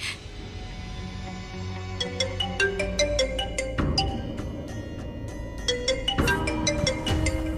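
A phone ringtone plays loudly as a bright, repeating electronic melody of sharp tones over a steady backing, with no voices.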